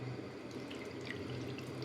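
Water runs steadily into a pan holding fish, a continuous soft pouring wash with faint splashes, close and alone without voices.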